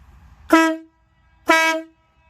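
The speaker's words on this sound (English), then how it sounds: "the horn. It's a pretty loud one." Two loud, blaring semi-truck air-horn blasts from a Kawasaki Vulcan 1700 Voyager motorcycle, each about half a second long, separated by a short pause, close by.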